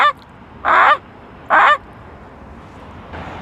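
A voice imitates a Canada goose, giving two loud nasal honks about a second apart, then a fainter third call starts at the end, with quiet between.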